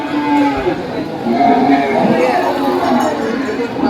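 Cattle low in long drawn-out moos amid a busy crowd at the Dhule bullock market, with people talking and chattering nearby.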